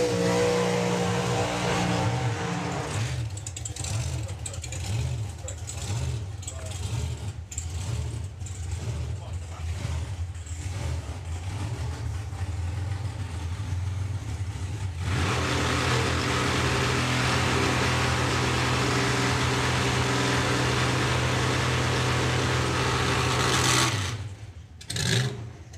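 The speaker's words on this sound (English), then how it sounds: "It is Dave Russell, the van with no name, taking on Alan Didwell with the Dragster" A drag-racing van and a dragster idle and rev in Super Pro eliminations at the STP Springspeed Nationals 2022. Engines pulse and blip, then a loud, sustained roar takes over before dropping away near the end.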